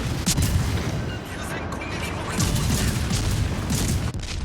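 Warship guns firing in World of Warships Legends, heavy booming salvos and rumbling blasts that run together into a loud, dense barrage, with someone talking over them.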